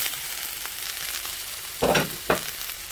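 Carrots and peppers stir-fry in a pan for chicken chow mein, a steady close sizzle broken by two louder scraping stirs near the end.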